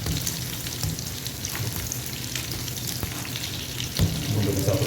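Stuffed beef chapati fries in oil on a pan, a close, continuous sizzle with bubbling crackles and a few stirring or pressing bumps, no talking.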